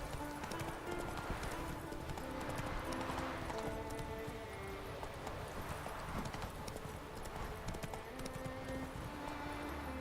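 Roach, a horse in the Witcher 3 game, moves along with steady, rhythmic clip-clop hoofbeats throughout, over a soft tonal background, with no voices.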